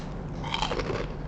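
Crispy rambak fish-skin crackers crunch in a single close bite, a short, brittle burst of crackling that stands alone without talk.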